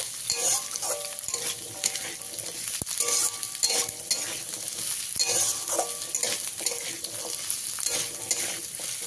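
Diced potato being stirred into a frying pan while making spicy semolina (jhal suji), with steady sizzling and repeated scraping of the spoon against the pan, close and continuous with no talk.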